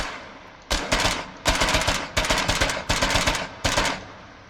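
A half-track in Foxhole fires its mounted machine gun in five or six sharp rapid bursts separated by short pauses, loud and close, with no talking.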